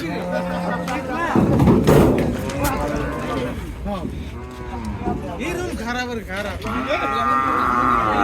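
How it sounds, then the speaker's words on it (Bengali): A red native bull lows loudly several times up close while unloaded from a truck at a cattle market, deep drawn-out moos over a busy background of other voices and occasional thumps. "এখানে একটি লাল ষাঁড়, দেশি ষাঁড় গরু কিন্তু আনলোড করা হচ্ছে, গাড়ি থেকে নামানো হচ্ছে"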